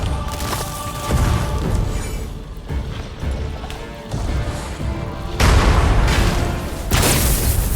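Explosions in God of War, a series of heavy booms and crashes hitting one after another with sharp impacts and rumbling tails, loud and close, with more intense blasts near the end.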